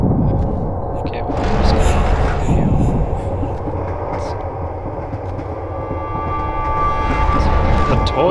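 A train rolls along in a video game with a continuous heavy rumble and clatter, a brief metallic screech rising early on and faint voice-like sounds mixed under the noise.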